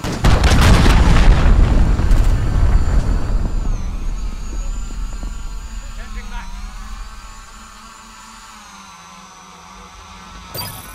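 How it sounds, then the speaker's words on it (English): An enemy cruise missile strike in the Call of Duty Modern Warfare raid on Grazna lands as a loud, deep booming explosion that rumbles and slowly fades into a low hum, with game voices over it. "Enemy cruise missile incoming."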